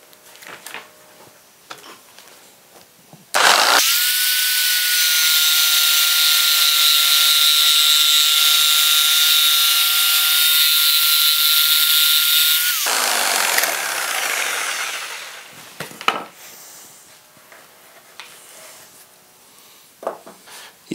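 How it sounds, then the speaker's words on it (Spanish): A jigsaw cuts through pallet wood in a single loud, steady whining run of about nine seconds, then winds down, followed by quiet knocks and handling noises. "Vamos a probar también en esta madera de palé a ver cómo sale."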